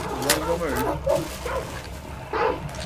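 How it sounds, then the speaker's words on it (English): Dogs barking and yipping in Hunt: Showdown, a few short growly barks and whimpers mixed in with someone talking and game ambience. "I'm gonna kill some dogs."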